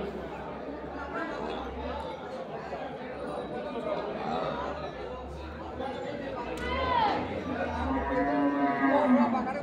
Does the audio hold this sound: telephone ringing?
no